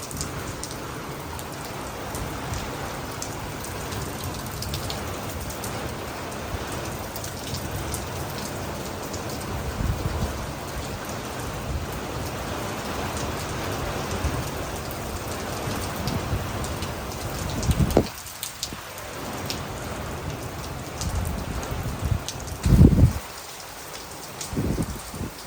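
Heavy rain pours steadily on a village during a storm, a dense continuous hiss of drops hitting surfaces throughout, with a couple of louder nearby splashes or knocks toward the end.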